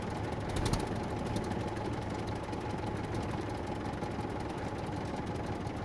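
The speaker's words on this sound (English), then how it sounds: "Let's drive the tractor inside." A tractor engine runs in the survival game SCUM, a steady, dense, throbbing drone that holds at an even level throughout.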